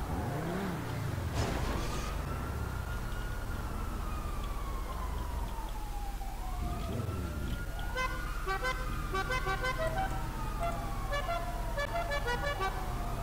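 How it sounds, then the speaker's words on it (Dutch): Car horns toot repeatedly in a free-roam driving video game, with rising and falling siren-like wails over steady engine and traffic noise, loud and continuous. "Waar komt de toeter vandaan?"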